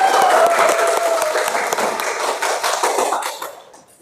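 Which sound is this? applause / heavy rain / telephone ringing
applause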